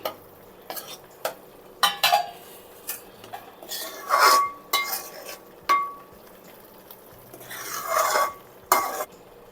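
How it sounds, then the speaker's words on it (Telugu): Prawn curry masala with slit green chillies being stirred and fried in a pan: repeated sharp scraping and clinking strokes at an irregular pace over a soft, steady sizzle, close up, with no talking. "ఇలా కలుపుతూ ఉండాలండి ఇది మొత్తం మంచిగా పచ్చివాసన పోయేంత వరకు మంచిగా ఫ్రై అవ్వాలి"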